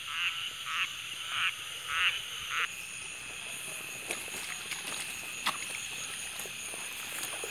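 Frogs croak in a loud rhythmic series of pulsing calls at night in a field where frog lines are being checked, then fade into a steady insect hum with faint scattered croaks and thuds.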